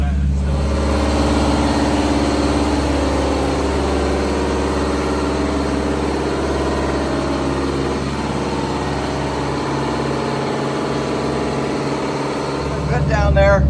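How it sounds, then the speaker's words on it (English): A generator runs aboard a 70-foot Viking yacht, giving off a loud, steady low drone that holds evenly throughout, with voices talking over it. "Okay, I got the generator running"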